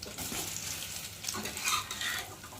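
Steady sizzling of an egg frying in a pan, with a few soft scraping stirs, close and continuous with no voices.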